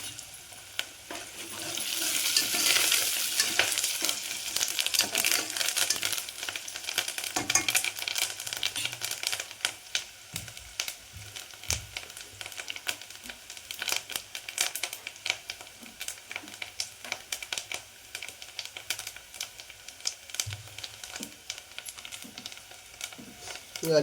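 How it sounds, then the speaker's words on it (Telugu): Onions and curry leaves frying in a pan, giving a soft crackling sizzle with scattered stirring clicks. The sizzle is strongest early on and fades to quieter, intermittent sputters. "కళ్యాణపాకు, ఉల్లిగడ్డలు అయితే మంచిగా వేగినాయి."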